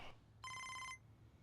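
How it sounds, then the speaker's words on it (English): A phone in MLB The Show 25 gives one short electronic trill, a rapid pulsing ring lasting about half a second over faint background hum. "Phone's ringing."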